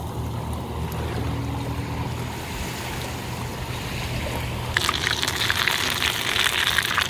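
Battered whiting fillet lowered into hot frying oil, a steady fizzing sizzle that suddenly swells into a bright, crackling hiss as the fish goes in, close and moderately loud.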